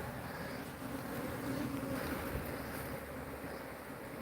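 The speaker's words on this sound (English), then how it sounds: "because there's tons of bees down in there" Honey bees drone in an opened hive during colony work, giving a low, steady buzzing hum with a faint airy hiss over it.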